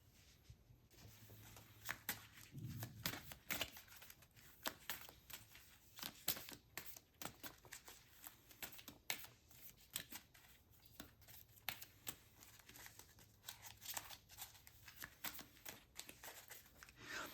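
Playing cards for the Dice Throne Adventures board game being slid into sleeves and shuffled into a deck, a steady run of soft papery riffles, flicks and rustles, close and fairly quiet with no talking.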